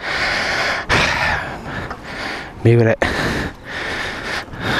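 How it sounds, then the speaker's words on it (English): Heavy, labored breaths and gasps come from a man pushing a Suzuki GSX-R motorcycle along the street, loud and close, with a few spoken words between them. "If you don't want to hear breathing too much,"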